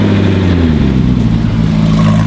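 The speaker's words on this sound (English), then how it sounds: "To go see Michael Schumacher's, I believe, 1998 retired F1 car" A retired 1998 Ferrari F1 car engine runs loud and close, a dense steady mid-pitched growl with layered harmonics and no gaps.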